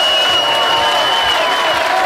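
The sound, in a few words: audience applause at a Gran Turismo 6 event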